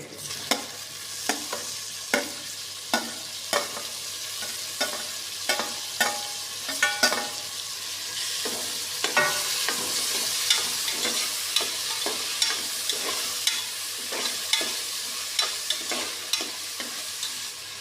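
Tomatoes frying in a pan for vangi bath, a steady sizzle punctuated by regular scraping strokes of a spoon stirring them roughly every second, close and clear with no talking.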